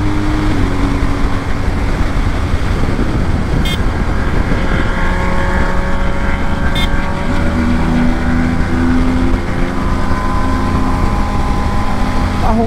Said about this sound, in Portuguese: Vi um ronco agora nas quatro cilindros